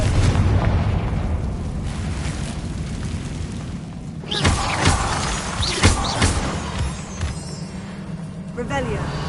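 Confringo fire spell in Hogwarts Legacy on PS5 bursts in booming blasts amid game noise, several loud thumps and rumbles, while a voice speaks.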